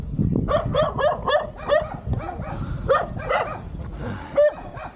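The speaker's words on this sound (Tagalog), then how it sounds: "Ayan, aso." A dog at a rural family home gives a run of short, lively barks and yips that sound close by, repeating several times in quick succession with no talking.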